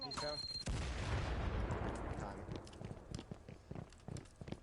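Gunfire and a grenade blast in a multiplayer shooter video game: a loud, sustained explosive burst early on, followed by a scatter of sharp shots trailing off, with voices talking underneath.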